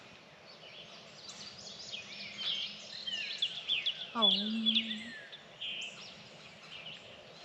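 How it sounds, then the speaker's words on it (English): Several birds chirp and trill outdoors at moderate distance, a busy layer of high calls, while a person briefly speaks nearby. "Listen to the birds."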